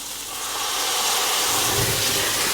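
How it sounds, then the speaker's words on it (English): Whiskey flambé igniting in a sauce pan in a home kitchen, a steady broadband hiss and whoosh of flames that swells louder after the first second and holds, with no talk. "that's called flambe"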